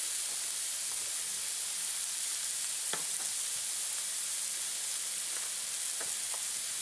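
Vegetables and meat sizzling on a grill over an open flame, a steady broadband hiss with occasional sharp pops and crackles, close and even throughout, with no talking.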